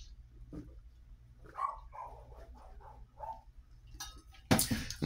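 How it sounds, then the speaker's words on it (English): A dog barks and yips a few times at a moderate distance in a quiet indoor morning setting, with a louder burst of noise near the end. "And stupid dog."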